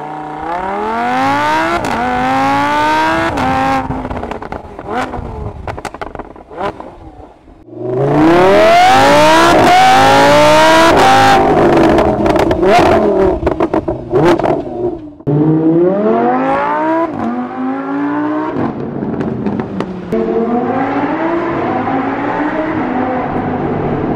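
A loud Lamborghini engine revs repeatedly through a straight-piped exhaust, raw and raspy, rising and falling in pitch, with one sustained roaring burst in the middle.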